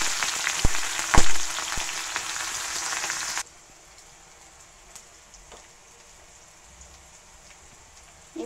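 Onion and green chilies drop into hot oil in a wok and set off a loud, bright sizzle with a few crackling pops, then it cuts off abruptly to a faint background hiss.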